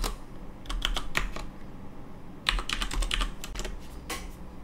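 Keys clatter on a computer keyboard in two quick bursts as a new password is entered to log into an OPNsense firewall appliance, close and clear with a brief pause between runs.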